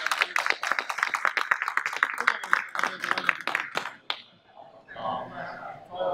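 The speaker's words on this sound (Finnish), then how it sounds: "Hyvä, annetaan aplodit tässä kohtaa." Audience applause at a pitching competition, a dense burst of clapping that fills the first four seconds, then tapers off before quieter room sound and a voice take over.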